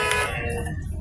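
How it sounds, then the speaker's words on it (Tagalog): A long electronic buzzer sounds at a basketball game between UNO and Landmark, loud and steady with arena crowd noise underneath, cutting off partway through the one-second stretch. "Buzzer na lang to."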